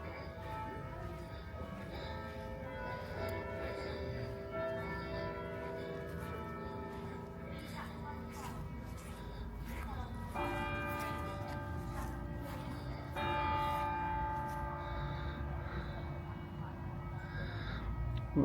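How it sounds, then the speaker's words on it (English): Abbey church bell striking two o'clock at Tewkesbury Abbey, heard outdoors from the grounds: sustained tonal bell strokes ringing out at a distance over low outdoor ambience, fairly faint and with no speech. "Well, there's the bell for 2 o'clock."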